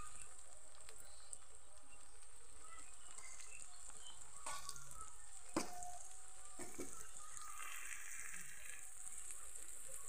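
Spices sizzling in hot oil in a pan just after turmeric powder goes in, a steady close frying hiss with occasional stirring clicks.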